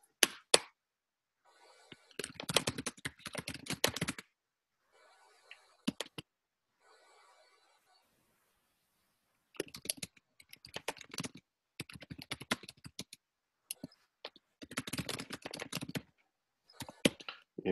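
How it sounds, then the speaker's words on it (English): Bursts of typing on a computer keyboard, clusters of fast key clicks separated by short pauses, close and fairly clear with no talking. "I'm just typing it out."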